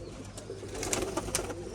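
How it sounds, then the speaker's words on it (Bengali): Pigeons stir and coo close by as they leave their coop on a pet-pigeon rooftop, soft wing and foot noises mixing with steady low cooing for a short stretch. "আর এই যে কিছু পায়রা বেরোচ্ছে।"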